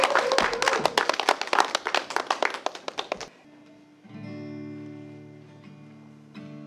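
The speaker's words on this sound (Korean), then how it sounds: "큰 박수로 한번 모시겠습니다" A small crowd claps briskly for about three seconds to welcome a singer-songwriter at a Yangcheon civil society gathering, then the clapping stops and a sustained electronic tone hums in the quiet room.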